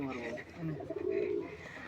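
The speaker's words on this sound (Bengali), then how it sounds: "মাদি মাদি কবুতর খুবই সুন্দর" Female Kaldoma pigeons coo at a pigeon sale, soft throaty rolling coos rising and falling across a short stretch, with faint background voices.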